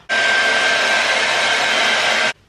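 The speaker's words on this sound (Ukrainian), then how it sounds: "Я дуже довго волосся сушу своє." A hair dryer blows loud and steady on hair at close range, one continuous whoosh with a faint whine that cuts off abruptly after about two seconds, with no talk.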